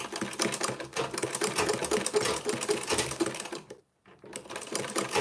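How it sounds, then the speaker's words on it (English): A sewing machine top stitching leather runs in a fast, steady rattling stitch for several seconds, stops briefly, then starts again, close and clear with no talking. "When you are top stitching, make sure you are pushing it in this direction so it will be easy for the machine to sew through"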